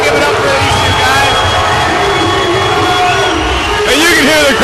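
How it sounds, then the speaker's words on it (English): A crowd at a Kalsamrit Gym fight roars, cheers and shouts continuously as a commentator talks over it, and the noise swells again near the end. "you can hear the crowd going nuts"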